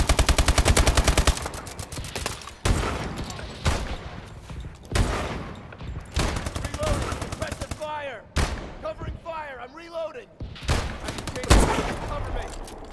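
Rapid automatic gunfire in Call of Duty Advanced Warfare, a dense string of loud bursts running almost continuously and broken by brief gaps, with people talking over it now and then.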